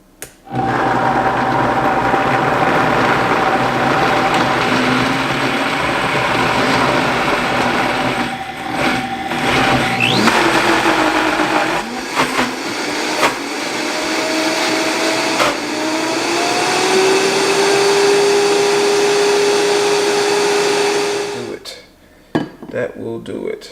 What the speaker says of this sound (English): we have the refried beans all blended up real good